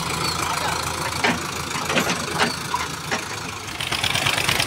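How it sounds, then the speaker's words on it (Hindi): A Sonalika DI 750 tractor engine labours under load while hauling a trolley of soil, a continuous mid-pitched diesel drone with a few sharp knocks and bursts, close by. "यहाँ पर जो है ट्रैक्टर काफ़ी जान लगा रहा है अपनी"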